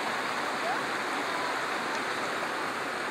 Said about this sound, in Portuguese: acabamos dando de encontro com essa cachoeirinha aqui, ó